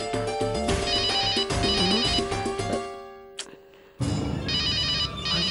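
A mobile phone ringtone plays as a bright repeating melodic tune, broken by a brief pause before the ringing resumes, heard fairly close in a home setting without speech.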